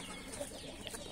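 Backyard chickens and young hens cluck softly in a farmyard flock. The low, steady chatter of birds continues for a moment at moderate distance, with no talking.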